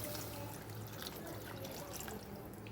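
Tamarind water, then plain water, is poured into a simmering garlic curry (poondu kuzhambu) in a faint, steady, hissing trickle with soft splashy flecks, heard alone without talk.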